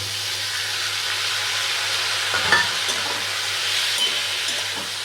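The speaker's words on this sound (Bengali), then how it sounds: "চিংড়ি মাছটাকে দিয়ে একটু নেড়ে নেব। পটল আর চিংড়িটা হালকা ভেজে নিয়েছি" Shrimp and pointed gourd stirred and frying in a pan, a steady close sizzle and hiss with soft scraping of the spatula throughout, no voices over it.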